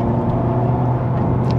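A Honda Civic Type R FK8 engine holds a loud, steady, close-up drone with strong low harmonics, running continuously and evenly with no voices over it.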